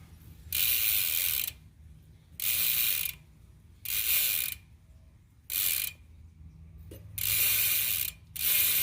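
A ratchet clicks rapidly in six separate bursts as the crank arm bolts on a BMX bike are tightened. The close, crisp ratcheting alternates with brief quiet gaps.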